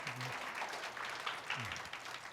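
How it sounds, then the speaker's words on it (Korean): Audience applause for lecturer Kang Yeon-woo at a university career-development talk, a steady broad wash of clapping across the clip, with a brief low voice murmur near the start and again midway. "다시 한번 저희 강연우 선생님께 큰 박수 부탁드리겠습니다"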